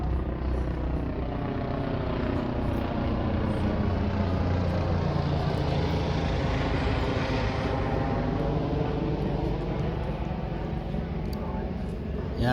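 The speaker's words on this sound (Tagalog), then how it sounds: "Yun, may helicopter." A helicopter flying over Müggelsee lake in Berlin, with a steady, loud engine and rotor drone holding throughout.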